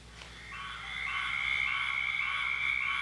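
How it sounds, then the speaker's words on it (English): A squirrel tree frog's steady, trilling two-syllable call repeats rapidly and continuously, fairly loud and close, with fainter frogs calling underneath. "But the loudest sound, that two-syllable call, was the squirrel tree frog."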